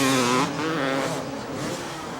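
Brief, loud, buzzy engine whine from dirt bikes racing at a 1988 supercross event, including a factory Kawasaki, with the pitch rising and falling as the bikes go by.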